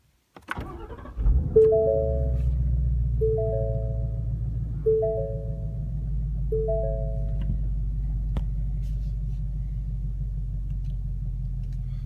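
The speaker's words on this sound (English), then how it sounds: "Alright, push button start." A 2016 Ford Mustang GT base model with automatic transmission has its V8 started by push button: a click and quick crank burst into a roar, then settle into a deep, steady idle rumble. Four chiming dashboard tones repeat over it.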